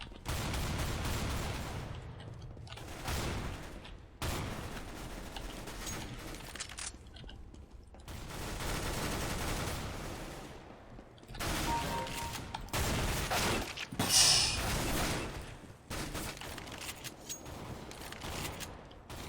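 Gun game deathmatch in Counter-Strike: Global Offensive, with repeated bursts of weapon fire in loud clusters separated by brief gaps, continuing throughout amid chaotic in-game action.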